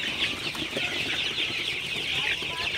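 Sonali super hybrid chickens clucking together on a farm on a hot day, a steady dense chorus of close fowl calls with no pauses.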